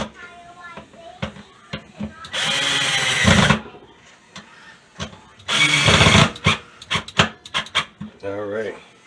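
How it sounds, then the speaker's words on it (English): A power drill set to its lowest setting tightens bolts under a kitchen sink while a garbage disposal is installed. It gives two sustained whirring bursts of about a second each, with clanks and handling noises around them and brief talk between. "And I have my drill on the lowest setting, and that's so I don't strip any bolts"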